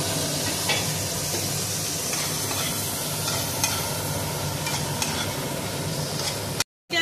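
A spice paste of ginger, green chilli, poppy seed and coconut fries in a pan with a loud, continuous sizzle, broken by light stirring scrapes and a brief dropout near the end. No voices.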